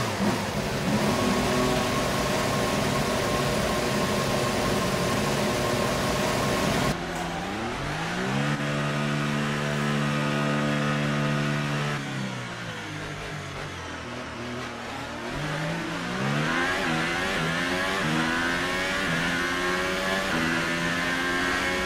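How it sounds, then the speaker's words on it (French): F1 2018 single-seater race car engine on a Belgian circuit during qualifying, a loud high-pitched whine climbing and dropping through gear changes, steady and close with no talk. "la monoplace va sur le circuit"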